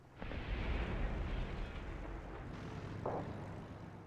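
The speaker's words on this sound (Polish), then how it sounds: "Samolot spłonął." An aircraft burning and blowing up in War Thunder, heard as a broad, loud roaring explosion that swells and rumbles for several seconds with a brief crackling burst near the end.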